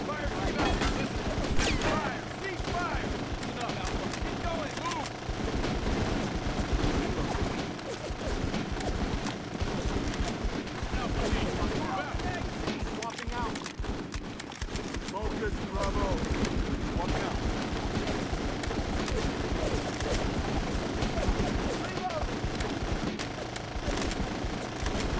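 Continuous gunfire and explosions from the squad tactics video game Full Spectrum Warrior, dense and steady throughout with scattered bursts, while a player speaks over the battle.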